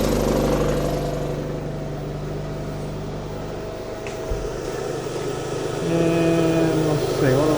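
Inverter generator engine running at idle after an idle stop adjustment, a steady droning hum with a slight shift in pitch partway through, close and continuous.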